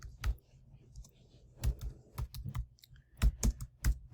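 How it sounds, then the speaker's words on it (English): Keys on a computer keyboard are tapped in a short burst of typing, sounding as irregular close clicks and clacks with brief pauses between them, quiet and with no speech. "Let's say I type in hello there."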